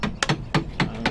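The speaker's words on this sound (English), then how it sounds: "When she gets tired nailing a stall together with one arm," Hammer blows nailing a stall together in the video game Katawa Shoujo land as four sharp, evenly spaced knocks in quick succession, close and fairly loud.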